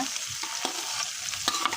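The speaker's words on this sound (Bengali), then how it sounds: "মরিচ আগে ভাজা দিলে তো মরিচের কাঁচা ভাবটা চলে যায়, এই জন্য মরিচ আগে ভেজে নিচ্ছি, তারপরে দিলাম পেঁয়াজ রসুন।" Chillies, onion, garlic and fish heads frying in a pan, giving a dense continuous sizzle with quick stirring scrapes and taps, close and steady throughout.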